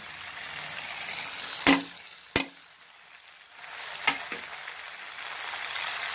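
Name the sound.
chopped onion added to a frying pan, sizzling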